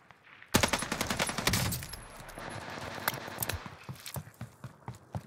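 Gunfire in the Warzone Pacific battle royale game: a loud burst of rapid automatic shots opens the exchange, then scattered single cracks and short volleys keep popping at varying distances over several seconds.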